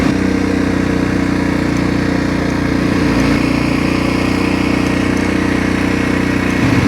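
An ATV engine runs steadily at close range, a loud continuous motor drone with a low throb that holds the whole time.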